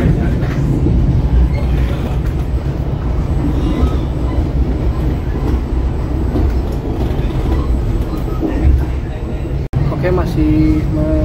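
The Papandayan passenger train, a luxury service on the Jakarta–Garut line, runs straight through Cikadondong station with a loud, continuous rumble and rattling wheels on rails, heard close from on board.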